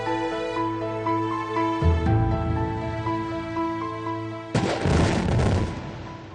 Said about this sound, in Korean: 다이너마이트 폭발 소리가 소록도 해안가 지축을 흔들었다